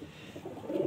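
Madrasi pigeons kept for sale cooing softly, a low, rolling murmur that swells toward the end of the brief moment, with no speech over it.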